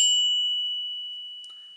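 A Brave classic 45 mm bicycle bell gives one bright ding, then rings on as a clear sustained tone that slowly decays. A faint small tap follows near the end.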